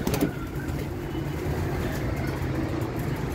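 Pigeons coo in a low, soft murmur over a rumbling background, close by and fairly continuous across the few seconds.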